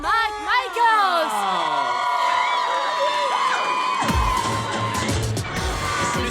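A bar crowd cheers, whoops and applauds loudly for drag performer Morgan McMichaels, with shouts rising over a dense, continuous roar that swells into clapping and stays close and energetic throughout.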